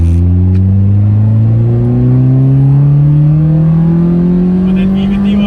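A Toyota Altezza's 3S-GE BEAMS engine with VVT pulls up through the revs, a loud, close, steadily rising drone heard from inside the car as it accelerates.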